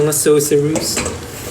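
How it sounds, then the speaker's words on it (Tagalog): Pancit canton noodles with sauces cooking in a pan, with metal utensil clanks and scraping against the pan over a soft sizzle, several quick knocks in a row, close and fairly loud. "Kumukulo na ang ating noodle."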